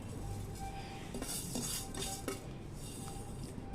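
A spoon clinks and scrapes against a bowl as sugar is stirred into lemon pieces for a homemade sweet-and-sour lemon pickle, in close, quiet, irregular strokes with no speech.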